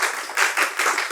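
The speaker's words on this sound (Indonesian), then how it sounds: "Tepuk tangan buat guys." A small group claps briefly in short, bunched bursts that swell and fade, close and fairly loud, with no voices over it.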